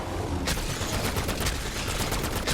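Rapid automatic gunfire in the Black Ops 7 Zombies video game, a dense burst of shots after a brief lull, loud and continuous with no talk.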